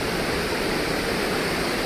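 Constant rushing roar of the Vyaghreshwar waterfall beside the temple grounds at Devgad, a big drop of around 300 metres, filling the scene with dense, even water noise and no talk.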